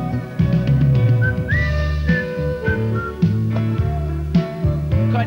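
An audience at a live show in Tenerife whistles a tune along with loud backing music, the bright whistled melody rising over a steady band accompaniment.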